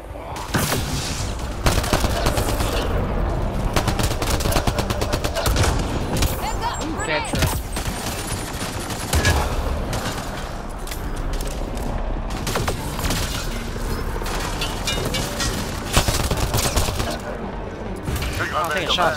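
Rapid bursts of gunfire from sci-fi shooter combat in Mass Effect Andromeda, loud and nearly continuous, with voices calling out over the shooting.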